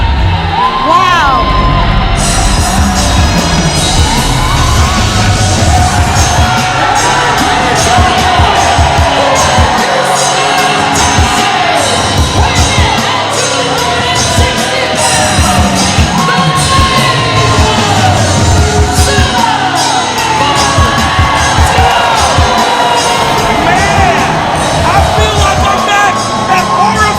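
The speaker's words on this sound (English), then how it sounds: "Listen to this crowd" A sold-out, record-breaking wrestling crowd at a Reality of Wrestling street justice match between Booker T and Zilla Fatu, roaring continuously with loud cheers, yells and whoops throughout.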